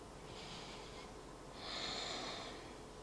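Deep, slow yoga breathing during a beginner French yoga class: two long airy breaths, one softer and one fuller, close and quiet with no talk.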